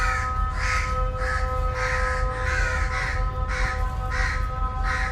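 Crows caw repeatedly from a garden tree at Eminabad railway station, harsh calls in a loose rhythm over a steady background hum.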